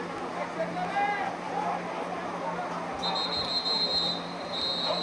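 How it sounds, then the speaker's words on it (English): A referee's whistle stops play at a high school football game, giving a brief shrill blast and then a second longer blast over a steady crowd murmur. "Stoppage of play by the whistle."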